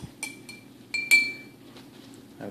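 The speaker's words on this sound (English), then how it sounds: "I'm very pleased to have upgraded to a pickle jar." A glass pickle jar used as a paint water cup clinks several times, with sharp, ringing taps spaced irregularly over quiet background, one tone lingering briefly.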